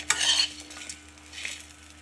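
Raw coconut pieces frying with curry leaves and tamarind in a pan, a short stir with a burst of close sizzling that quickly fades to a soft hiss.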